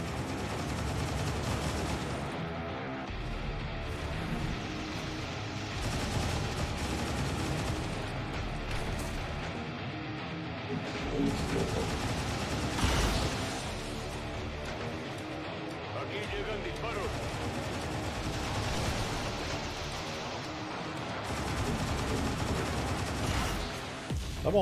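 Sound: gunfire in the video game XCOM 2

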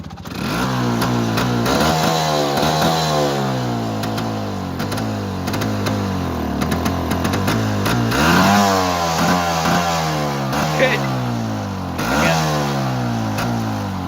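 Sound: scooter engine revving and backfiring

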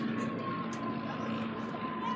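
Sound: airplane flying overhead

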